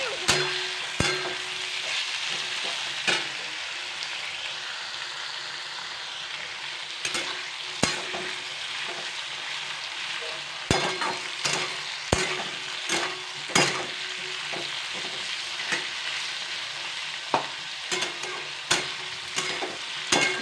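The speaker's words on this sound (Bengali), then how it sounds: "সব কিছুকে একসাথে ফ্রাই করতে হবে" Tomato and other ingredients for a mushroom dish fry together in a pan with a steady soft sizzle, broken by frequent sharp clicks and scrapes of a utensil stirring.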